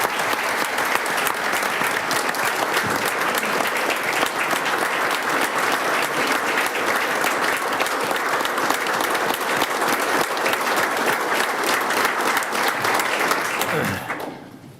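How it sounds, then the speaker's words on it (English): A town council meeting audience applauding the mayor and councilmen, a steady, dense round of clapping that holds at full strength for about fourteen seconds before tapering off at the end. "Let's give them a round of applause."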